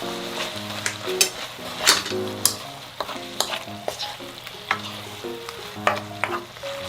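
Eggplant and green onion stir-fry in perilla oil with soy sauce, a steady close sizzle broken by repeated scraping strokes of a utensil against the pan, with no voices.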